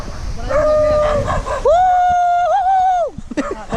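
Dogs on the road to Baguio near Anduyan Bridge give loud, close howling yelps and drawn-out whining barks, with a person's voice briefly underneath.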